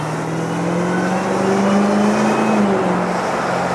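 A crash-damaged Dodge Durango Hellcat SUV cruises at a steady engine hum with a faint rising tone, heard from inside, continuous and moderately loud.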